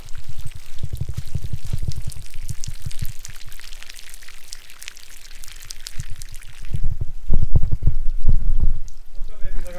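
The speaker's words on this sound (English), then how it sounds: "Look at all that nasty water coming out of it." Dirty water pours and splashes out of soaked turf from a dog pen during cleaning, a steady gushing wash that swells louder near the end, with talking over it.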